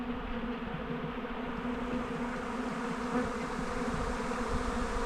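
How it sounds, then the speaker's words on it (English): A swarm of honey bees moving into a nucleus hive in a garden makes a dense, continuous buzzing drone. It is close and loud and holds steady throughout, with no voices. "there's 4 swarms into the garden"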